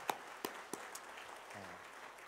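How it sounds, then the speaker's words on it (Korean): A church congregation at a Sunday service claps, a few sharp, distinct claps close by, then quieter scattered ones as the applause trails off in a hushed room. "우리 박수로 크게 축복해 주시길 바랍니다."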